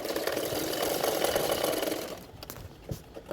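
Sewing machine running steadily as it stitches a 4-inch back tuck on a size 36 double katori blouse, a continuous whirring hum for about two seconds that then stops, leaving a few quiet handling clicks.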